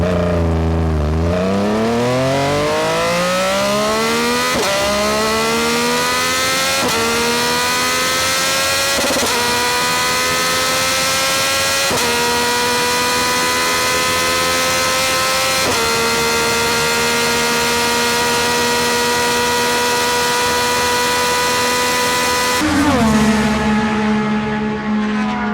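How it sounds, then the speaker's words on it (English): A 2025 Yamaha R9 with a Dominator GP3 full exhaust and ECU flash pulls hard from first to sixth gear, its loud engine note rising sharply and dropping at each upshift before a final roll-off. "I'll show you guys a pull that I did a couple days ago from 1st to 6th gear, essentially topping the bike completely out."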